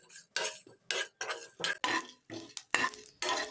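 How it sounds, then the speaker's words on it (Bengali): Fennel seeds, cumin, whole peppercorns and dried red chillies dry-roasted in an empty pan, with about ten quick, rhythmic bursts of a spoon stirring and scraping against the metal. "এবার এগুলোকে শুকনো খোলায় ভেজে নিয়ে আমি গুঁড়ো করে নেব।"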